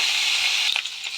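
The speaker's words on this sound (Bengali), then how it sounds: "আলুগুলো করে লাল লাল করে ভেজে নেব।" Potatoes fry in a pan over a clay stove with a close, steady, bright sizzle, broken near the end by a few short crackles and scraping taps.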